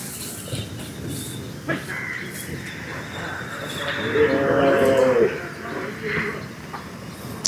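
Cattle at the Kannapuram cattle market, with one moo rising near the middle and lasting about a second, set against busy outdoor market noise and people talking close by.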